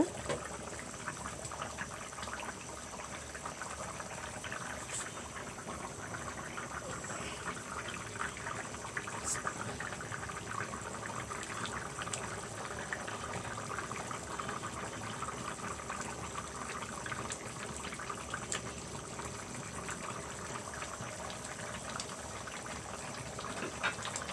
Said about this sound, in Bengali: পুরা লাউ বলক উঠে গেল